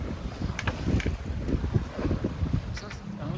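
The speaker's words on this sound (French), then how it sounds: "On a des rafales à 20 nœuds." Wind gusting at around 20 knots roars across the microphone on a sailboat at sea, in an irregular, buffeting rush with faint water sounds underneath.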